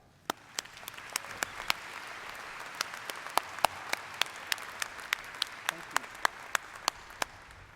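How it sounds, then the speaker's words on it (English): A crowd of graduates and guests at a university commencement ceremony applauds with a thin, fairly distant patter, with scattered sharp individual claps punctuating it throughout. "I would like for us to recognize with a round of applause our fantastic A-State staff."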